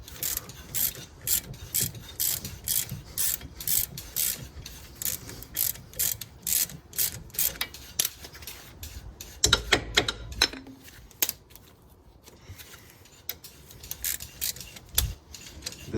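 Ratchet wrench cranking a ball joint separator to free a ball joint from a steering knuckle, rapid bursts of metallic clicking in regular strokes, close and fairly quiet, with a few heavier clunks and pauses.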